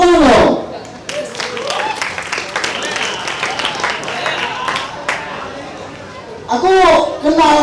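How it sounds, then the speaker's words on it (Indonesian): Audience applause at a stand-up comedy show in Aceh, a dense crowd clapping with cheers and chatter for several seconds between stretches of the comedian's voice at the start and end. "Tepuk tangan dong"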